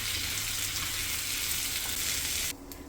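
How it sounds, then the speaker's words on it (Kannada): Ingredients fry in ghee over a low flame, giving a steady, close hiss that stays even, then drops away sharply near the end. "1-2 ನಿಮಿಷ ಲೋ ಫ್ಲೇಮಲ್ಲಿ ಹುರ್ಕೊಳ್ಳೋಣ"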